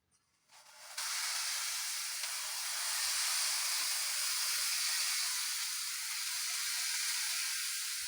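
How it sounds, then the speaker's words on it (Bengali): Jalebi batter dropped into hot oil, bursting into a sudden loud, steady hissing sizzle after a quiet start and holding evenly close by. "দেখো বন্ধুরা, এই তেলের মধ্যে ছেড়ে দিয়েছি"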